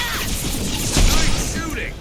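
Gunfire in the video game Mass Effect 2 during a combat sequence, with a dense, noisy barrage of shots and a heavier burst around the middle, mixed with voices talking over the battle.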